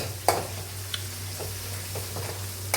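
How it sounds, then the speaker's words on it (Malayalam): Garlic and ginger frying in oil for a pickle, a steady low sizzle with occasional clicks and scrapes of stirring, fairly close and quiet, no talk. "വെളുത്തുള്ളി ഇഞ്ചി നല്ലോണം ഇങ്ങനെ വാടി വരട്ടെ"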